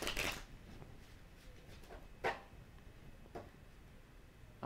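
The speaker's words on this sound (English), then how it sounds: "let's shuffle them really quickly" Tarot cards being shuffled quickly by hand: a faint, quiet riffle at the start, then a few soft, scattered card snaps and flicks over the following seconds.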